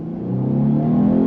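A Lexus RC 350 F Sport's engine revs up briefly on throttle, a close, loud drone rising steadily in pitch from inside the car.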